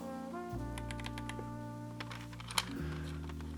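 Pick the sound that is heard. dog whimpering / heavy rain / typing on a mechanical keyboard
typing on a mechanical keyboard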